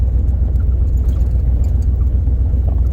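A Camaro engine fitted with a FiTech fuel injection system and new spark plugs idles close by with a steady, deep rumble and no throttle changes.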